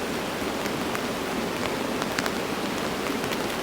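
Steady rain patters on a tunnel tent during a camping trip, a dense, even hiss of drops with a few sharper taps standing out. No one speaks.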